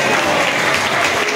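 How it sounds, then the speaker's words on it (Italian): Audience at an evening party show clapping together, a dense, loud, continuous burst of applause with no gaps, crowd noise mixed in. "facciamoci un applauso a tutti"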